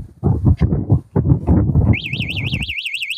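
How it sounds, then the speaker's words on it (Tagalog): Anti-theft alarm on a NWOW WSP e-bike going off with a loud, warbling electronic siren that rises and falls rhythmically, starting partway through under a man's speech and then continuing alone. "pag naka-alarm na yan, pag ginalaw mo yung WSP, tutunog po siya."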